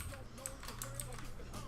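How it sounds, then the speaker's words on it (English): Light keystrokes tap on a computer keyboard while text is entered, quiet and close, under a faint background hum. "The next one, I'm gonna type in poster."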